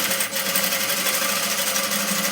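A sewing machine stitches the shoulder seams of a frock in a steady, fast, loud mechanical whir that runs unbroken from start to finish, close up and with no talking.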